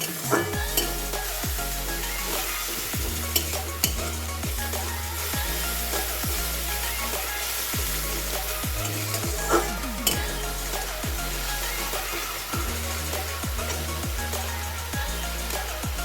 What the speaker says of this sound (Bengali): ভালো করে একটু নাড়িয়ে ছাড়িয়ে নেব, যাতে পেঁয়াজের যে একটা কাঁচা গন্ধ সেটা যাতে চলে যায়।